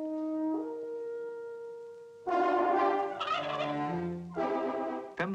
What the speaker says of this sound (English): Pembrokeshire turkeys are their big business, believe me.